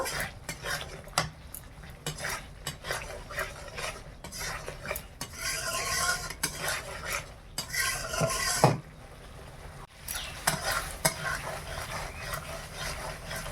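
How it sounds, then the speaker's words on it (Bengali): Spice paste with cashew paste and poppy seed paste being fried for prawn malai curry, a spoon stirring and scraping against the pan in repeated clinks and scrapes over a faint sizzle, close and moderately loud. "কাজু বাটা আর পোস্ত বাটাটা দিয়ে আমি ভালো করে মশলাটা কষিয়ে নেব, তেল ছাড়া না পর্যন্ত।"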